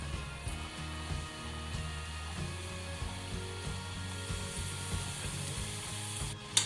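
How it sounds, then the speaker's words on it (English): Potato fingers double-frying in hot oil, a steady close sizzle and bubbling that holds evenly throughout, ending with a brief clatter. "Once the oil is hot, add the potato fingers into the hot oil."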